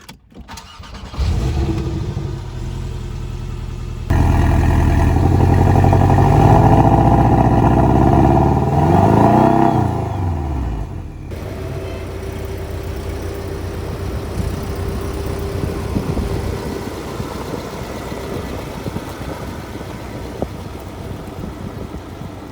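A 2016 Porsche 718 Boxster with 295 horsepower cranks and fires up, settles, then revs hard through several rising and falling sweeps before easing into a steady, lower engine drone as it drives off.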